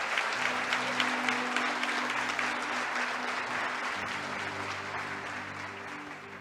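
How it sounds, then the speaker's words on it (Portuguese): Church congregation applauding in worship, a dense, continuous wash of many hands clapping that fades slightly toward the end, with a low tonal hum beneath. "Você pode aplaudir, glorificar o nome do Senhor."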